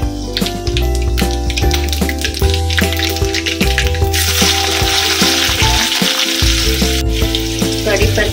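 Mustard and cumin seeds sizzling and crackling in hot oil, a loud close frying hiss with busy popping throughout, steady and without talk.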